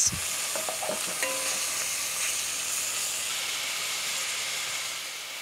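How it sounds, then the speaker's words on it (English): Reserved fat goes into a hot, drying pan while beef bourguignon cooks. A brief clatter at the start gives way to a strong, steady sizzle and hiss that slowly softens toward the end. "It was getting a little bit dry in the pan, so I just add in a little bit of that reserved fat."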